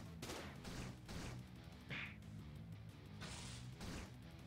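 Gunfire in the sci-fi turn-based RPG Incitement 3 as a tough, heavily defended enemy is shot: repeated loud bursts of shots in a steady rhythm over a dense game soundtrack, with no talking.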